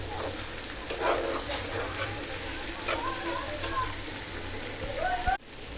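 Okra coated in soybean oil dropped into a hot pan, sputtering and crackling close by with a few sharp clatters and scrapes, then a sudden thump near the end.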